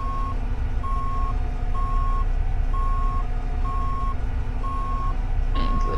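A reversing bus sounds its warning beeper, a loud steady pulse of seven evenly spaced tones over a continuous diesel engine rumble, with no talking.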